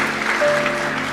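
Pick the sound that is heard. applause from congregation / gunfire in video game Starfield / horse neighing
applause from congregation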